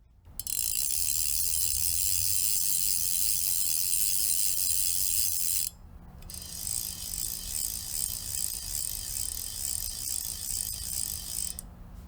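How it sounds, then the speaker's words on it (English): Galvan GEN fly reel clicking on the incoming retrieve, a fast, steady, fine ratchet buzz in two long bursts separated by a short pause, close and moderately quiet. "it's got a nice trouty click on the incoming"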